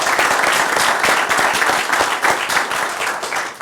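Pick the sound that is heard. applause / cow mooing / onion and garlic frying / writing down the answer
applause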